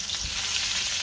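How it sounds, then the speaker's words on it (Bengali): Hilsa fish coated in turmeric, chili and salt sizzles in hot oil, a dense, close, steady crackling fry for a brief moment with no voices. "ইলিশ মাছ ভাজি"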